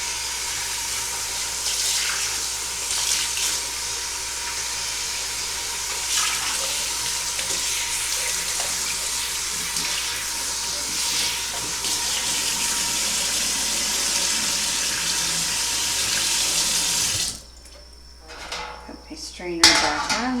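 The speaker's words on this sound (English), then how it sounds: "I've been rinsing the tea towels out with each straining just to give them a good wash" Warm water runs steadily from a kitchen tap while tea towels used for straining cran-apple juice are rinsed, a continuous splashing stream with light clinks of pots and utensils, cut off near the end.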